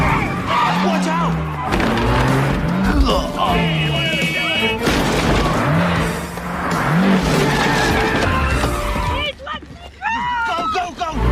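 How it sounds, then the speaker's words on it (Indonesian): Tyres squeal again and again as cars skid through a car chase in a Jackie Chan action film, loud and close, mixed with engine roar, film music and shouted dialogue. "Di tengah kejar-kejaran, mobil Jackie Chan malah kejebak pasir"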